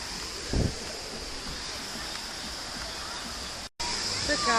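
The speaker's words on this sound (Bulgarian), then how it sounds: "ето го басейна с бързата река." A fast-flowing artificial river beside a swimming pool rushes steadily as loud broadband water noise, with a brief thump near the start and a short dropout toward the end.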